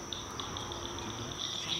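Frogs croaking in thick woods, a faint chorus of short, evenly repeated high chirps pulsing steadily over a soft background hiss.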